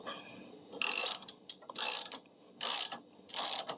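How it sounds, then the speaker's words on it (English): Repeated bursts of grinding, creaking metal strain in four pulses, close and fairly loud, with short pauses between each squeeze. "Just by clamping down on it. I hear the bending."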